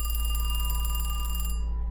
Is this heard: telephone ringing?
yes